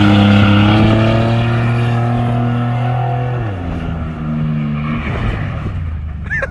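A loud, straight-piped 4.3-liter truck engine on a cold start rumbles steadily up close, then its pitch drops and the rough exhaust note settles into an uneven, throbbing idle.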